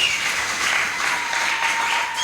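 A church congregation claps steadily at a gospel event, dense applause filling the space evenly from start to finish, loud and continuous with no talking over it.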